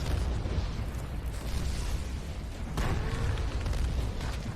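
A cinematic explosion from the Justice League: Doom animated film, a loud, continuous roaring blast with deep rumble and crackling debris, holding steady throughout with a sharp burst about midway.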